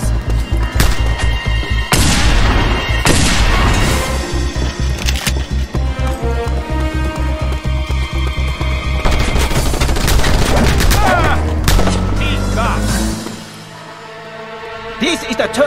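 Sustained bursts of automatic fire from a mounted gun in the video game Just Cause 2, loud and rapid with explosive booms between volleys, under game voices and music before easing near the end.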